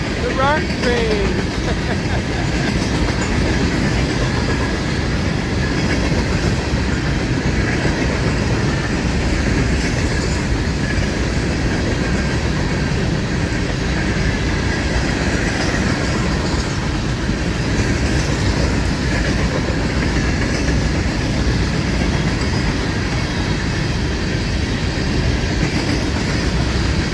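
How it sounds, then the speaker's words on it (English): A freight train loaded with rock rolls steadily past at close range, its cars producing a continuous loud rumble and clatter from start to finish, with a brief wheel squeal near the beginning and voices occasionally audible beneath the noise. "Rock train."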